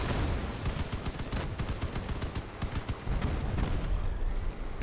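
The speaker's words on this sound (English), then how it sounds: "there is a guy behind us actually shooting." Dense gunfire in the vehicle combat game Crossout, with rapid rattling bursts and sharp shots layered over a constant loud roar of engines and battle noise.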